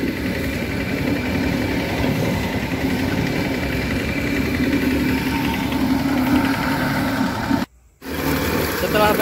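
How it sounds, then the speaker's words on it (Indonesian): A baby roller compactor's engine runs steadily while compacting fresh hot mix asphalt, a continuous loud mechanical drone with rumble and clatter that cuts out briefly near the end before resuming. "dipadatkan kembali menggunakan mesin baby roller Pro."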